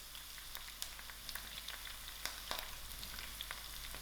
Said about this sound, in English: allow my garlic to fry out a little